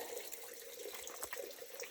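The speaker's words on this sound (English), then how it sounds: "water is dripping out into that little pipe area, and it's running down" Water drips and runs down into a small pipe at the front of an old building in Cades Cove in the Smoky Mountains, a steady close trickle with a rushing, splashing texture and no voices.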